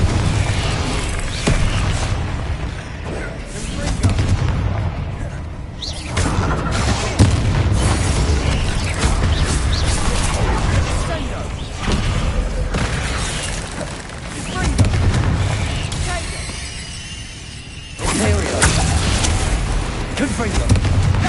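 Confringo explosive spell blasts in Hogwarts Legacy, a string of loud booming bursts and crackling impacts filling the space, with a voice talking over parts of the chaos.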